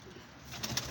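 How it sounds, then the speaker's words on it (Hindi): Pigeons coo softly in a brief, faint burst, with low throaty murmurs rising slightly toward the end. "देखो ये कबूतर आए हैं जी बॉर्डर लाइन से।"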